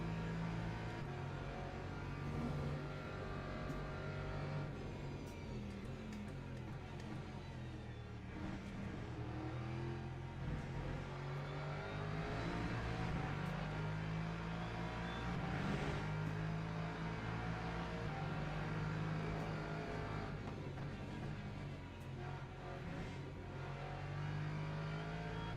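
Race car engine at Le Mans in a racing video game, a continuous loud drone rising and falling through gear changes and revs over about twenty-five seconds, with no talk.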